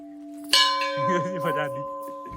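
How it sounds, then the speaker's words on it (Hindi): A temple bell is struck sharply and rings on with a bright, lingering metallic tone, resonating and slowly fading; a faint voice murmurs beneath it. "मेरे को बजवानी पड़ रही है।"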